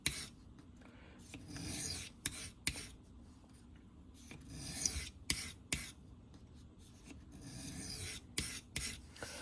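A knife blade being drawn across a sharpening stone in repeated strokes, a quiet, close rasping scrape with a steady back-and-forth rhythm.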